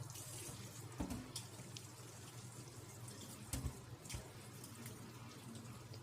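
Stainless steel cookware washed under running tap water: a faint, steady water stream with a few sharp clinks and splashes as the pans are handled.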